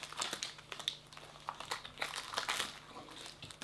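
Shopkins toy packaging is torn open close by, with soft irregular plastic crinkling and rustling, fairly quiet and with no voices.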